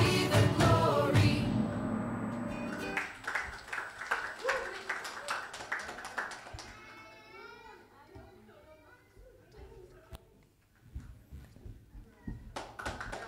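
A church congregation at a Christmas service claps, a burst of scattered hand claps that thins into sparse taps, while voices and chatter continue nearby.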